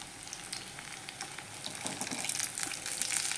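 Masala-marinated boiled eggs fry in a pan with a steady soft sizzle, and faint scrapes and crackles build in the last second or so as the eggs are turned over; no one speaks.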